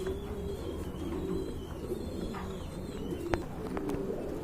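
Pigeons coo softly at a pigeon farm, a low steady murmur of overlapping calls with a brief sharper chirp near the end, moderately close and without talk.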